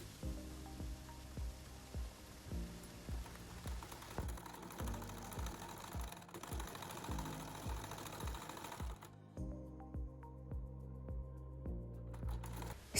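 Sewing machine running a stitch around black and white dress fabric for an off-shoulder maxi dress, a quiet steady rapid clatter that goes on for about nine seconds, stops briefly, then starts again.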